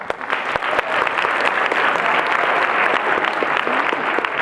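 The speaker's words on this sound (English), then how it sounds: "So a round of applause for all of you as well." An audience at a student cultural show applauds in a full, continuous burst of many hands, with a few sharper individual claps standing out near the start, sustained at an even level throughout.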